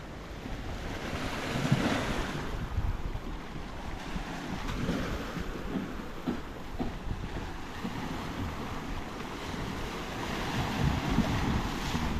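Big ocean waves roll and crash continuously in strong monsoon wind, a loud, steady roar of surf with wind buffeting the microphone throughout and no voices.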